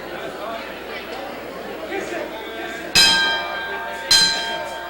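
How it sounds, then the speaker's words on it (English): A wrestling ring bell clangs twice, sharp and ringing, over a murmuring arena crowd and background chatter at a 1983 professional wrestling match. "the bell sounds as Ali Bey the Turk goes over towards Nick Bockwinkel."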